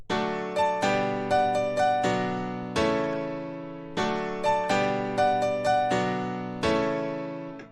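Equalized acoustic piano playing a repeating phrase of chords and single notes with a steady rhythm, each attack ringing into the next, clear and alone.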